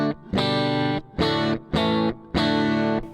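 Electric guitar chords through a Fender Deluxe Reverb tube amp with slight breakup, strummed in a rhythmic pattern of sustained hits separated by brief gaps.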